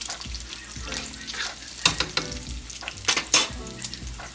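Bacon for shrimp and grits frying in its own grease, a close, continuous crackling sizzle with sharp popping bursts and occasional scraping clatter in the pan.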